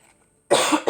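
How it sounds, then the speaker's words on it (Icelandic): One short, loud cough from a man bursts out close after a moment of near silence, followed by the start of a second cough. "Ég hósti, pyrra mig,"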